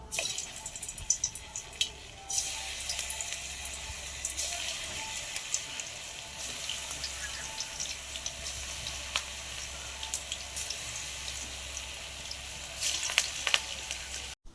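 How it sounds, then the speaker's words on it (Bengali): Battered, coated noodle potato snacks fry in hot white oil in a kadai, giving a low continuous sizzle with occasional bubbling crackles and a few clinks, fairly quiet and without talk. "তেল গরম হয়ে গেছে একে একে ভেজে নেব"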